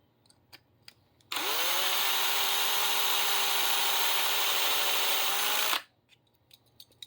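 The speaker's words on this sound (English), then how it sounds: "And drill this side." A power drill bores steadily through a part during a wheel swap on a BMW premium model, one continuous high whine lasting about four seconds with a slight pitch rise at the start, close and loud over a quiet room.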